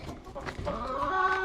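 Backyard chickens cluck and murmur close by in a short, busy flurry of overlapping calls.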